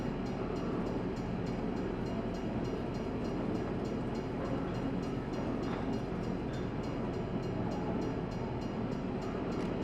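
A train rolls past in Farming Simulator 22, a steady loud rumble of wheels and wagons with a rapid rhythmic clatter throughout, constant and close, with no voices.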